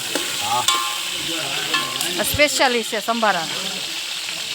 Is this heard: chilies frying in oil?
yes